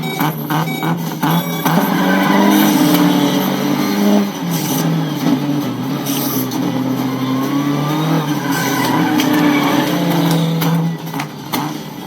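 Race cars speed through a Minecraft-style animated race in a continuous loud engine roar with rising revs and shifting tones, heard alone for the whole stretch.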